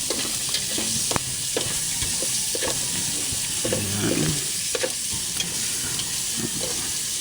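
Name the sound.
stirring and frying banana blossom in a pan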